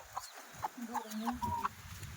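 Chickens cluck softly in short, scattered calls, fairly close, over a quiet rustling background.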